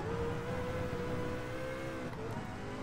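A Sauber race car engine in GT Sport sounds as a steady, guttural drone at a constant pitch, quiet and continuous throughout without speech.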